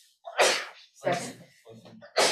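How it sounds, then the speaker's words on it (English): During a school board meeting held over Zoom, a sneeze sounds, with sharp bursts that are close and moderately loud, separated by brief silences and mixed with short bits of voice. "sneezes don't count"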